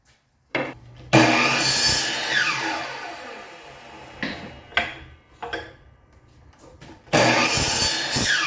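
Hand sawing through solid oak dowels in bursts of steady back-and-forth strokes, close by, with brief pauses and a few knocks between cuts.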